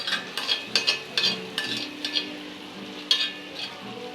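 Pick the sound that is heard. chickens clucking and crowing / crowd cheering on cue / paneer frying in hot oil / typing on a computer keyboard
paneer frying in hot oil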